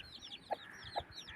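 A hen perched in a tree with her chicks in a Pakistani village gives two soft, faint clucks about half a second apart, while small birds chirp high in the background.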